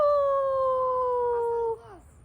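A long sustained howl, likely a person imitating a dog howling at the moon on a full-moon night outdoors, holding one steady pitch for nearly two seconds before trailing off.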